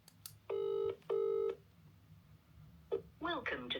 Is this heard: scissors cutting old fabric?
no